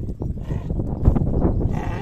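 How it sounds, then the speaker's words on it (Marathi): Sheep and lambs in a flock bleat close by, with overlapping calls over a low, busy rumble of animal movement. "कोकर नाही दिसल्या मोठ्याने वराटते"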